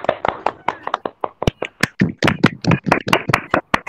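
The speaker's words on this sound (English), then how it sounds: "Please give a big round of applause." Audience applause at a college poster-making competition prize announcement: brisk, uneven hand claps from a small nearby group, with voices mixed in.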